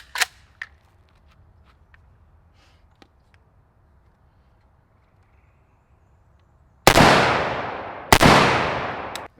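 Two loud, sharp suppressed gunshots from an AK rifle fitted with a Mustafa M85 suppressor ring out close by, each followed by a long decaying tail, after a stretch of near quiet with faint clicks.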